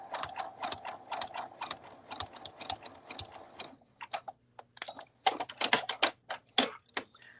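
A home sewing machine zigzag stitches along the top seam of a cuddle bunny toy. It gives close, rapid mechanical ticking and clatter, first dense and continuous, then breaking into shorter uneven bursts.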